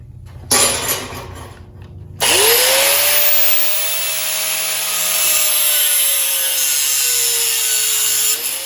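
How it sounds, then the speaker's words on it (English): A cutoff wheel spins up with a rising whine and bites into small metal pieces clamped in a vise, giving a loud, sustained, shrill grinding that holds for several seconds. "with the cutoff wheel I will just take a little bit off"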